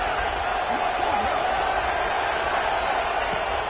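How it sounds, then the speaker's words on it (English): A stadium crowd roars steadily at a Florida vs USC football game during a two-point conversion attempt, a dense, loud wash of cheering with an announcer talking over it. "this crowd is electric trying to stop them"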